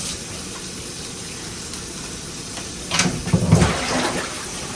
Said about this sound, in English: So now I'm just going to go ahead and rinse off my meat and then put it in this pan.